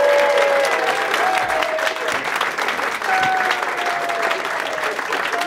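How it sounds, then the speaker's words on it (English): A live comedy audience applauds loudly to welcome stand-up comedian Tiffany Money to the stage, steady dense clapping sustained throughout with crowd noise and a few whistles. "Start a clapping, lots of love"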